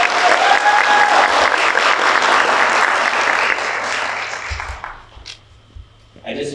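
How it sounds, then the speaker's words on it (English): Loud, dense audience applause for a contestant at a Miss MCC Princess cultural beauty pageant, steady for several seconds before cutting off and dying away to a few stray sounds. "please give a round of applause for contestant number 2"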